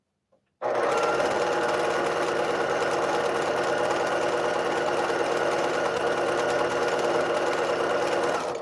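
A sewing machine starts abruptly and runs at a steady fast clatter while stitching quilt blocks to a strip, close and loud, unbroken to the end.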